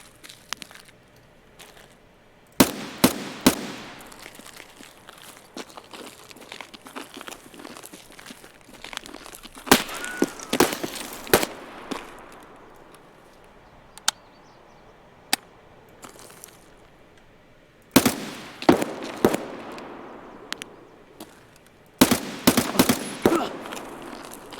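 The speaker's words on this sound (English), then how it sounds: "These all kind of sound like pistol scavs" Pistol shots from AI scavs in the shooter game Escape From Tarkov crack out in short sharp bursts of two to four rounds, separated by quieter stretches.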